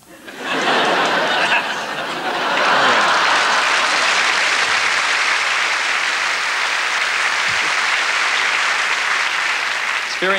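Audience at a Royal Variety Show bursts into loud, sustained applause mixed with some laughter, holding steady for about ten seconds after a ventriloquist act.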